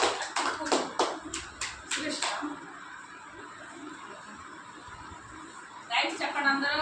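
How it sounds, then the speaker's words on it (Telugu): An audience at a small felicitation ceremony claps in a quick burst of sharp hand claps that fades out, then starts again briefly near the end, with voices talking over it. "అందరు చప్పట్లు కొట్టండి."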